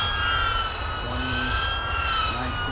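Sustained high whine of drone motors held at full throttle during a DJI stress test, a loud, steady near hum with a slightly wavering pitch over a low rumble.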